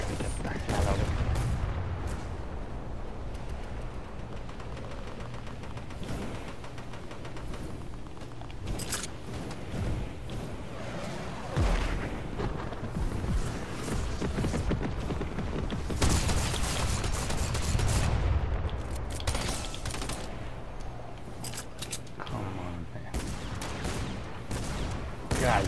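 Airstrike explosions and gunfire during a Fortnite monster-versus-mech live event, with dense, continuous booms and rapid shots layered over a constant roar, loud and sustained, with a player talking over the chaos.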